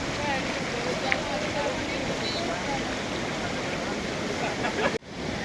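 Flood water of the Narala river at Bodkha rushing over a bridge after heavy rain, a continuous loud wash of roaring water with faint voices mixed in and a sudden cut near the end.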